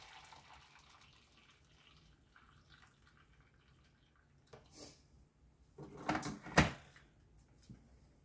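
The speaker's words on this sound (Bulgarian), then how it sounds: "Слагаме 400 мл варяща вода." Boiling water is poured into a flour mixture for gluten-free flatbreads. A short splashing pour swells near the end after quiet kitchen background, with no talking.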